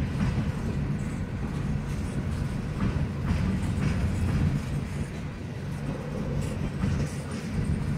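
Norfolk Southern westbound empty coal train of dump hoppers rumbling past nearby, a continuous loud roar of wheels and rattling cars with faint rhythmic clacks throughout.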